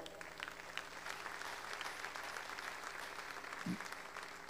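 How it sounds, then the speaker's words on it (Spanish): Congregation applause at a Spanish-language church service, a steady wash of clapping held at a fairly even, moderate level throughout, with a faint low thump near the end. "Un aplauso al Señor"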